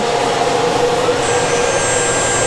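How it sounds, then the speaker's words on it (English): A workshop dust collector roars steadily and loud, and partway through a machine spindle spins up, adding a high, steady whine over the broad rushing hum. "let's turn on our dust collector. And our spindle comes on."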